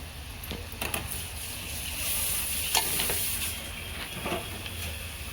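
Ghee sizzling as it is heated and clarified in a clean pot, a steady soft frying hiss with faint crackles and a few brief clinks running through the whole stretch, with no voices.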